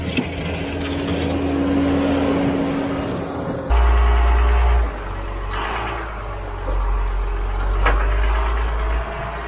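A loaded dump truck carrying gravel and pulling a skid loader on a trailer rumbles with deep engine drone, a loud low surge midway, rattles and clunks, and steady idling without speech.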